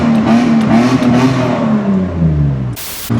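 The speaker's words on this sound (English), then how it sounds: "So it has that exhaust leak, but that's what gives it that raspy sound" BMW E36 328i with a raspy exhaust and an exhaust leak, revving loud and close with a steady rasping drone that eases off, then briefly drops out near the end.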